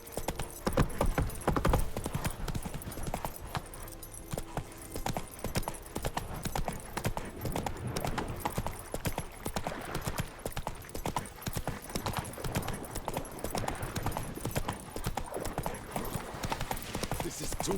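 Geralt's horse gallops in The Witcher 3: Wild Hunt, producing a quick, rhythmic run of hoof clip-clops that continues throughout, with game music and voices talking over it.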